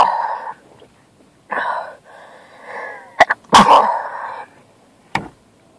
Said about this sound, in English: Always happens when I've not sneezed all day.